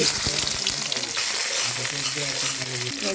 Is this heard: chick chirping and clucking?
no